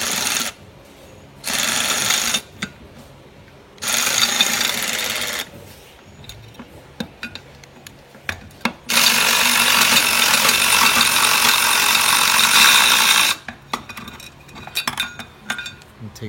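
Socket wrench ratcheting out a torque tube bolt, with quick metallic clicking in several bursts, close and clear, separated by brief pauses and faint handling clinks.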